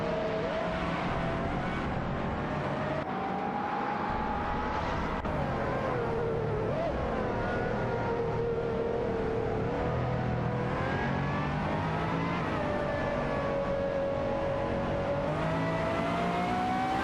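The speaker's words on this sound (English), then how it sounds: "Racing car, dashing away." Race cars speed around a racetrack in an AI racing game, engines whining and revving continuously with pitch rising and falling as cars pass, loud and unbroken throughout.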